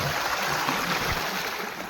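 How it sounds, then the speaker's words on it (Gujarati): Water from a well pump motor gushes steadily, a constant bright splashing flow heard close by with no talking. "અહીંયા પાણી ચાલુ છે કવાની મોટરનું"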